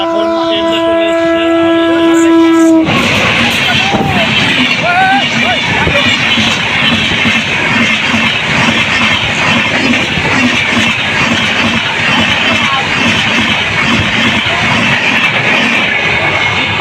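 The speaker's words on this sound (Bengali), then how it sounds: "আর এখন ট্রেনটা চলে" A train pulls out of a station at Khaspur, making a loud, continuous rolling rumble and clatter close by, with people's voices mixed into the din.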